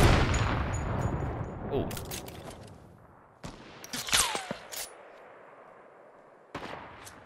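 Sniper shots in a video game: a loud booming report decays at the start, and several sharp single cracks ring out later with gaps of quiet between them, one with a falling whine, and a voice briefly reacts.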